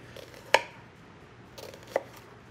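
Two crisp knife chops on a cutting board while dicing an onion, spaced about a second and a half apart, close and fairly quiet with faint room noise between them.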